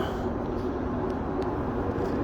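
A Montreal Metro Green Line train approaches the station, a steady low rumble that holds at an even level throughout.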